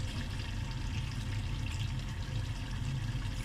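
Water is poured into a pot of mutton korma, degi-style, a steady soft splashing and trickling that runs evenly throughout at moderate distance with no talking.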